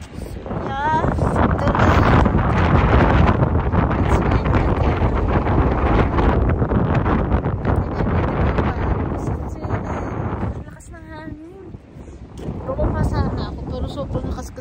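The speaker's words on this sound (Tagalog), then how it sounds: "sobrang lakas kasi ng hangin." Strong wind roars across a beach in Busan, buffeting the microphone in a loud, steady rush with surf beneath, while a person talks over it almost throughout.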